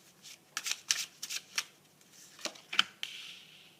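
Tarot cards are shuffled in a quick run of crisp riffling bursts, close and fairly quiet, with a pause before a final flurry and a softer brushing tail.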